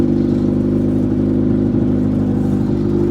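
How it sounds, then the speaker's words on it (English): A Toyota truck engine idles steadily at a slightly raised, even pitch, close by and continuous with no talking. "it's running a little high idle right now"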